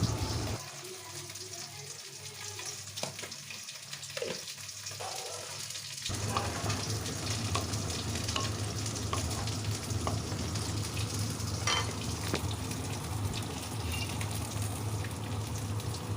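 Spiny gourd (kakrol) dish with sugar added simmers in a pan, giving a steady broadband sizzle and bubbling after a quieter opening, continuous and close with no talk.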